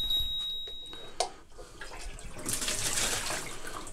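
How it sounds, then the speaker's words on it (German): Water from a reverse osmosis filter is tipped away into a sink with a soft, trickling splash that builds over the last second and a half. A faint, thin electronic tone hums beneath it at the start. "Jetzt schütte ich das Wasser mal weg."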